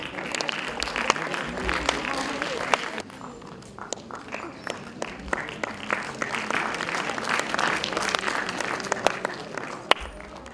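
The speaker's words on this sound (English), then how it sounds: "Please give a huge round of applause." Audience applause at a national economic summit ceremony, sustained dense clapping from a large crowd that fills the whole stretch, with a brief dip midway before swelling again.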